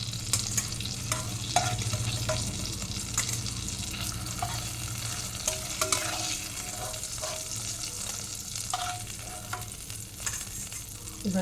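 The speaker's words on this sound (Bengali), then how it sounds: "এবারে বাকি পটলগুলো এইভাবে ভেজে নেব।" Pointed gourd pieces fry in hot oil, a steady close sizzle with scattered crackles and occasional stirring scrapes running throughout, with no voices.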